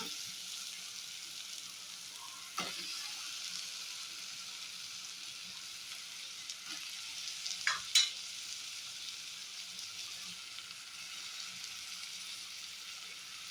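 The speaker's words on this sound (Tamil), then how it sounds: "இது வதங்கட்டும், ஒரு 2 மினிட்ஸ் வதங்கட்டும்" Onion masala for a South Indian prawn curry sautéing in a pan, a faint continuous sizzle throughout with a few brief clicks of a spatula against the pan.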